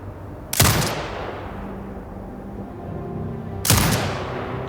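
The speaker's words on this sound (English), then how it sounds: "Exit binocular mode and command the turret to fire." Two loud, sharp turret shots blast several seconds apart in Sniper Ghost Warrior Contracts 2, each followed by a long rumbling echo tail that fades slowly.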